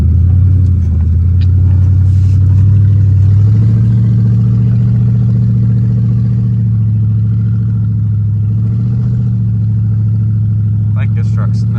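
A 2003 Ford Crown Victoria engine idles loudly and steadily up close, a low droning rumble that steps slightly lower partway through and then holds even, with occasional faint clicks and a voice speaking nearby.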